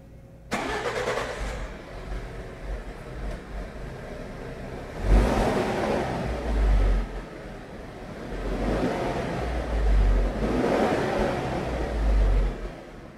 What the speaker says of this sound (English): Now we can go ahead and start the vehicle